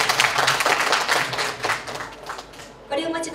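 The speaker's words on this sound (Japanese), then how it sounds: "どうぞ皆様大きな拍手をお送りください。" A symposium audience applauds at the close of the event, a dense, steady patter of many hands clapping that swells and then thins before a brief burst near the end.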